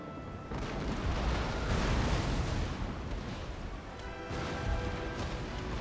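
Naval cannon fire in the video game Imperial Destroyer, Dutch side, broadsides from both flanks: a sustained, loud rumbling roar of overlapping booms that swells and eases, with no clear gaps between shots.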